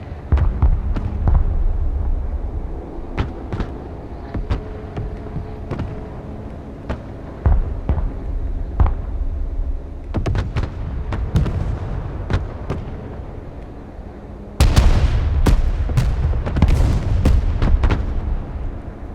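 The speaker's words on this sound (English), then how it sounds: "Artillery ready to fire, sir." Artillery fire in the video game Broken Arrow: repeated heavy booms and sharp cracks come in irregular bursts over a low rumbling battlefield bed, growing denser and louder toward the end.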